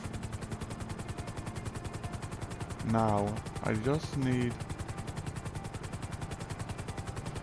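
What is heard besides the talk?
helicopter in a video game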